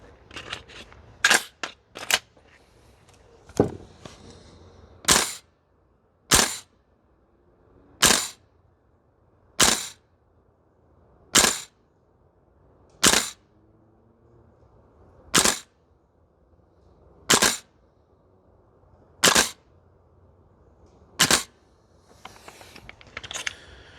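A VFC URGI V3 gas blowback airsoft rifle fitted with 4UAD parts fires about fifteen sharp single shots at uneven intervals. The cracks are loud and close, with quiet gaps between them, until the magazine runs out of gas.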